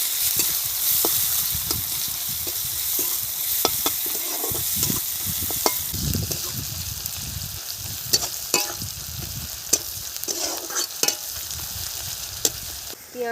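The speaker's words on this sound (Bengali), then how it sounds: "পেঁয়াজ ভাজা হয়ে গেছে" Onions fry in oil over a cumin tempering in a village-style kitchen, giving a steady close sizzle with repeated utensil scrapes and clinks as they are stirred throughout.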